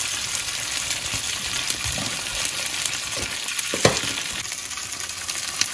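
Curry leaves fry in oil on a flat tawa, giving a continuous crackling sizzle with occasional stirring scrapes and a small clink, close and without speech.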